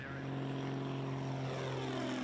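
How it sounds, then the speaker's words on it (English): Small propeller airplane in flight, its engine drone steady and loud throughout with a constant tonal hum, no voices. "I'm also flying the airplane with my right hand and my feet"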